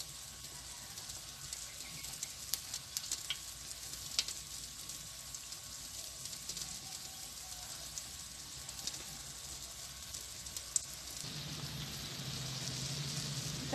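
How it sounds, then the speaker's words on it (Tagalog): Okra omelette (tortang okra) frying in a pan, a steady low sizzle running throughout with a few brief crackles and a slightly louder hiss near the end; no talking. "Simula na natin lutuin yung tortang okra."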